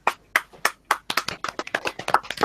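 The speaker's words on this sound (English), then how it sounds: "Round of applause." A round of applause from a small group, with about a dozen sharp, irregular hand claps over a couple of seconds, close and fairly loud, growing denser toward the end.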